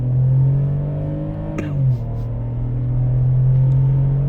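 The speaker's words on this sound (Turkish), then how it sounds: "Mesela şurada bir dip gaz yapayım." BMW X3 2.5i E83 with about 340,000 km accelerating under full throttle, a steady close engine drone with a brief dip and shift-like change in pitch midway before the drone returns.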